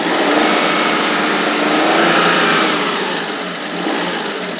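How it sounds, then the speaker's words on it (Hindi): A petrol Maruti Alto's small engine revs loudly and steadily up close, holding a high, buzzing drone that dips slightly near the end. "इसका जो इंजन का जो साउंड है काफ़ी अच्छा है, ऑल्टो है ये"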